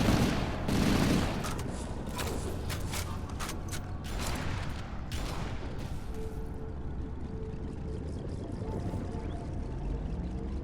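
In the Halo Anniversary beta, an assault rifle fires in rapid bursts during the first half, loud and close, then gives way to quieter mechanical clatter and game ambience.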